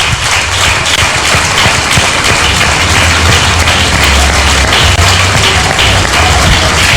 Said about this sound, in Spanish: veo que aplauden, no tiene sentido sus palmas